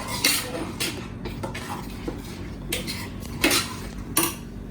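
Spoon clinks and scrapes against a pan while garam masala is added to dal makhani, several bright metallic taps spaced irregularly, close and moderately loud, without speech.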